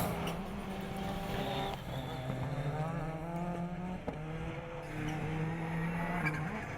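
Citroën C4 rallycross car racing at Dreux, engine revving and shifting through rising and falling pitches, loud and continuous, with other cars audible around it.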